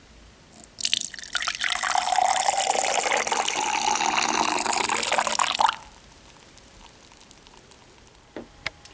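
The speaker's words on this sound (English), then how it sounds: "I love the way it sounds though when you pour it in." Water poured steadily into an organic coffee maker, a bright continuous splashing stream lasting several seconds that stops abruptly, followed by faint drips in a quiet room.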